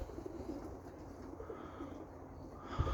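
Roller pigeons cooing softly in a backyard loft on a cold, snowy November day, a faint low murmur under light outdoor noise, ending in a brief thump.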